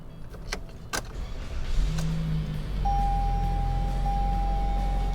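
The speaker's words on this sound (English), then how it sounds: "We're going to start this Corolla up." A 2020 Toyota Corolla LE with CVT started by push button: a few clicks and a rising low engine hum that settles into a steady idle, with a thin sustained tone above it, close by and without talk.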